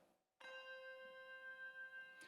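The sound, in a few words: C hand chime being played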